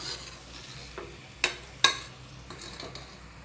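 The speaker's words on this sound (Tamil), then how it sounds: "இந்த மசாலாவும் அரிசியும் நல்லா இப்படி கலந்து விட்டுக்கோங்க" A spoon stirs rice with prawn biryani masala in a pan, giving a soft sizzle broken by a few sharp scrapes and clinks against the metal, quiet and close, with no voices.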